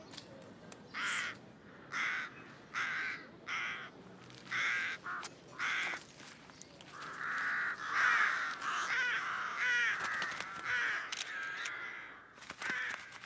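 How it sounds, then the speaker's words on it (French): Crows caw in a string of loud, separate calls close by, then a rough overlapping chorus of caws as the birds take off, with camera shutter clicks heard among them during a children's outing at a natural history museum. "Les corbeaux s'envolent déjà."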